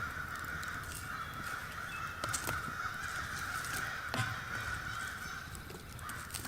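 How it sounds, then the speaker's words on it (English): Crows caw repeatedly from a distance over a steady outdoor hum at an overnight ATV campsite, their harsh calls coming in irregular bursts. "Man, them crows are something else right now."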